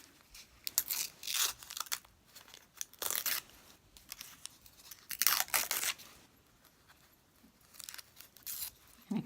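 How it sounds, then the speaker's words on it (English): Paper backing being torn off fabric half square triangles for quilting, a series of crisp ripping bursts in irregular rhythm, close and fairly loud, with quiet pauses between tears. "start in the middle and tear it"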